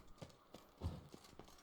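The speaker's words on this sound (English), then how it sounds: "That's a horse." Horse hooves clip-clop in the video game The Witcher 3, a few faint, evenly spaced hoofbeats heard at a slow walking pace.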